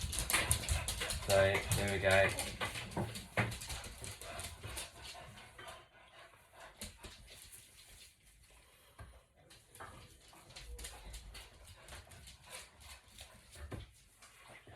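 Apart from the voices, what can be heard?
dogs barking after returning from a walk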